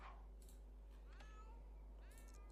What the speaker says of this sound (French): les chats, ils commencent à s'embrouiller